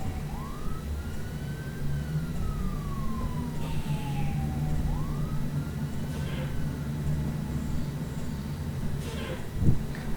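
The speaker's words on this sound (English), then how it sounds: "Is that all you hear? Yeah, is police sirens." A wailing police siren inside the OMSI 2 bus simulator video game, heard through an open window as two long rising-and-falling sweeps over a steady engine and traffic hum, with a brief thump near the end.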